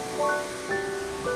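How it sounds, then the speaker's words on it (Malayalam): Amarad waterfall, with water pouring down over rocks in several tiers: a continuous broadband rush, moderately loud and steady, with faint tonal traces over the flow. "പാറയുടെ മുകളിലൂടെയാണ് വെള്ളം മുഴുവനും താഴെ ഒഴുകിയെത്തുന്നത്."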